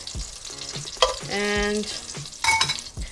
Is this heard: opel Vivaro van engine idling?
no